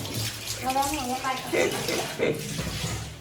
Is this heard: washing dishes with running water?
yes